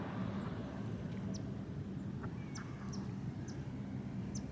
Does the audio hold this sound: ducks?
yes